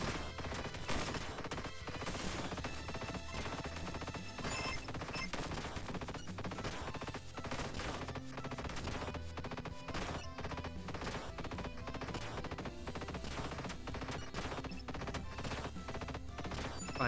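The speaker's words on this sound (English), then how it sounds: "look at those electric shots!" Electric energy shots firing in a video game, rapid crackling zaps packed tightly and continuing through the whole stretch beneath steady game music, at a fairly low level.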